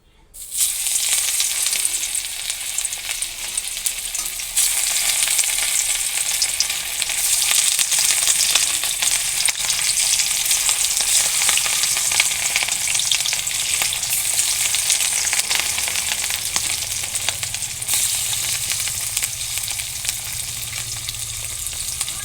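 Rohu fish pieces fry in hot oil in a kadai, giving a loud, steady sizzle that runs the whole stretch with no one speaking.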